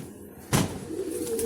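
Soft, low pigeon cooing near and fairly faint, with a sharp knock or bump partway through and quiet background noise.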